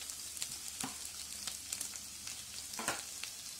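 Chopped okra frying in a pan with sliced onion for a Kerala puli curry, giving a quiet, steady hissing sizzle broken by a few soft stirring scrapes.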